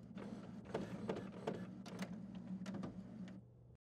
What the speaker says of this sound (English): press the Start Copy Color button to scan the alignment page